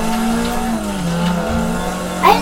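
Racing video game car drifting through a corner, a steady engine drone with tire squeal rising and falling, loud and continuous, ending in a brief sharper screech.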